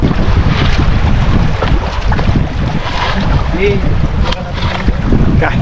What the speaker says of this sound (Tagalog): Aming bangka na to.